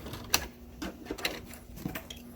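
A sewing machine back-stitching the end of a seam on a surgical skull cap, with short, quiet bursts of mechanical stitching and clicks close by.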